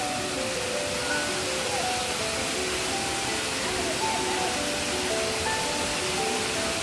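A waterfall at a state park roars as a dense, even wash of rushing water, loud and constant throughout, with faint voices in the background.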